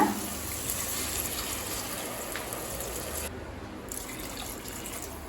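Coconut milk, about one and a half cups, pours into a pan of sautéed onion and tomato for coconut rice, giving a continuous, close liquid hiss for several seconds with no talk.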